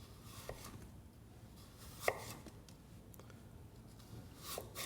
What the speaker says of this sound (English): fingers in, sharp knife, thin slices.